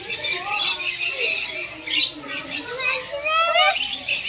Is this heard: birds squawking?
yes